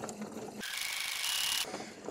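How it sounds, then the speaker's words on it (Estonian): A sewing machine stitches crinoline tape onto a skirt hem in a short, steady whirring run of about a second, fairly close, with quieter handling noise before and after. "Ja õmblen kinni ma selle krinoliini vasakult poolt ja päris siit äärest"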